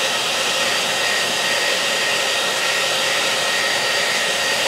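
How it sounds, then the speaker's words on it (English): A hair dryer blows continuously at close range, a loud, steady whooshing roar with no pauses. "I'm gonna get a hair dryer and dry this off."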